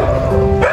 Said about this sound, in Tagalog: May aso daw dito.